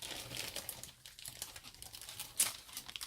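Plastic bag holding parts of a Tamiya German 3-ton 4x2 cargo truck model kit crinkling close up in irregular bursts of rustling, with one sharper crackle near the end and no talking.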